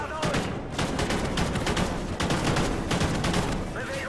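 Sniper and other gunfire in the video game Call of Duty Ghosts: dense, continuous volleys of sharp shots crackling throughout, loud and close, with a voice speaking briefly underneath.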